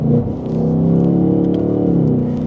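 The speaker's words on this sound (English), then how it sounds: "The rev matching sounds really good when it does that on the downshift." A 2026 Ford Mustang GT Premium V8 blips upward briefly as it rev-matches on a downshift, then settles into a strong, steady rumble close to the listener, loud and uninterrupted.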